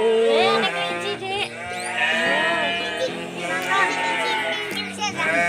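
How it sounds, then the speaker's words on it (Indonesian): Goats bleating continuously on a goat farm in Cikalong, West Java, several overlapping wavering calls close by and loud, with barely a pause between them. "Berada di peternakan kambing Pak Adi di Cikalong, Jawa Barat"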